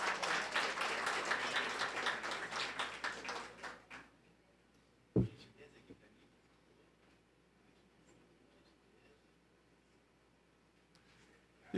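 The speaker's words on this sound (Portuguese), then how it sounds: "Uma salva de palmas." Audience applause at an economics council swearing-in ceremony, a few seconds of brisk clapping that thins out and fades, then a sharp thud and a quiet room with faint shuffling.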